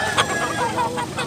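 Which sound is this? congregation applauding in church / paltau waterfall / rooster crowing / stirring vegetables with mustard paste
rooster crowing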